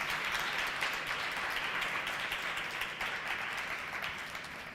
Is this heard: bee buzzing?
no